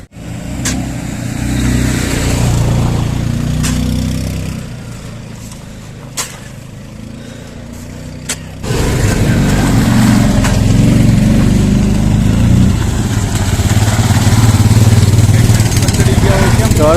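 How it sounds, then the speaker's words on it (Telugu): A motorcycle engine runs near Manali while the bike is being parked for a paragliding trip, loud and continuous with a revving rumble that swells halfway through, with some people talking. "ఫస్ట్ అయితే బైక్ ని పార్క్ చేద్దాం"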